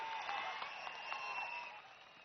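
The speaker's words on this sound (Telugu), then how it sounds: "గట్టిగా చప్పట్లు కొట్టాలి" A crowd at an outdoor political rally in Madakasira claps over a constant tonal hum from the public-address system, the clapping faint and distant before fading toward the end.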